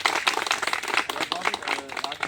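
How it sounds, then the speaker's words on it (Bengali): Students at an environmental education session clap for a botany professor, a lively burst of many hands close by, with speech mixed in over the clapping. "স্যারের জন্য একটা জোরে হাততালি দিন।"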